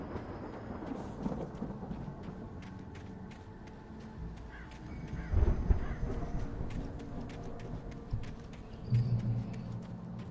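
Thunderstorm in the Alan Wake video game, with a low rolling rumble and a heavier thunder swell midway, steady rain-like hiss throughout and a few sharp crackles, fairly distant.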